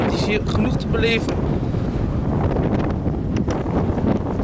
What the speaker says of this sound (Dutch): het waait hier heel hard.